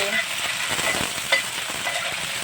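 Recado aromatics for menudo fry steadily in a hot pan, a continuous close sizzle with faint stirring scrapes and no talk.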